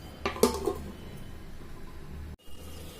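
A clay cooking pot of fish curry is covered with its lid, giving a few close ceramic clinks and a scrape early on, followed by quiet kitchen background.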